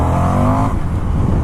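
A 2019 Indian FTR 1200 motorcycle engine, a 120-brake-horsepower bike, revs hard and rises in pitch as it accelerates, loud and close for a brief moment before settling into a rougher, lower drone.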